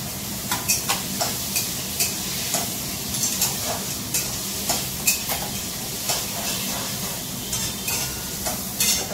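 Onion being fried with garlic in a pan for homemade noodles, a steady close sizzle broken by repeated scraping stirs and light clinks across the whole stretch.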